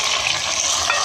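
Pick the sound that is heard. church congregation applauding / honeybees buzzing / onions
onions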